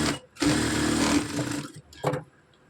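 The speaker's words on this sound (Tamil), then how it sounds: "அதே மாதிரி நான் இதை மாதிரி தைக்கிறேன்." Sewing machine stitching a seam on a sari blouse, one close whirring run of just over a second followed by a short, softer second burst, with no speech.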